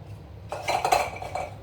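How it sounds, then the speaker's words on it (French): Parsley and other ingredients dropped into a small kitchen blender, a short burst of clinking and clattering of utensils and containers after a quiet moment, close and fairly soft. "Là, je mets tout dans mon petit mixeur, avec le reste du persil."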